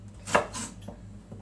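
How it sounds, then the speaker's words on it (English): A kitchen knife slices through tofu on a board for a vegan dish, giving a few soft, close chopping strokes spaced irregularly, with no voices. "I'm just going to slice these up"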